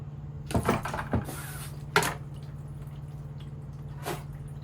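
Water from a boat engine during cylinder head removal, falling into a bucket in a few separate splashy drips and spills, close by over a steady low hum.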